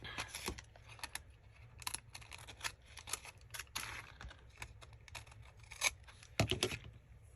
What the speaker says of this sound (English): this time we'll just cut in an angle around it